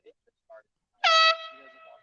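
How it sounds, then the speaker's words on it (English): A loud air horn blasts once, a bright brassy tone that fades into a ringing tail, after a couple of faint short sounds. "Oh, they have an air horn."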